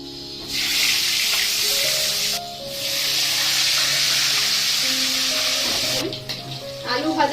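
Potatoes fry on a gas stove in a home kitchen with a steady, bright sizzling hiss that pauses briefly and then continues. Faint tonal background sounds run underneath.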